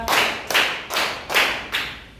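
Five loud group claps in an icebreaker concentration game, each a sharp near burst with a short decaying tail, landing in a steady rhythm about every 0.4 seconds with no talking.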